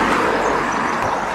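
A Mazda goes by on a road beside a shared trail, a brief continuous whoosh of tyres and engine at moderate distance, heard on its own without voices.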